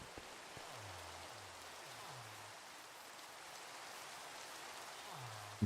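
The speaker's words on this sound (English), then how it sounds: "it sounds like it's actually raining" Steady rain falls in Minecraft, a soft continuous hiss with low ambient tones drifting underneath.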